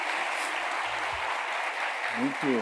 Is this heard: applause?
yes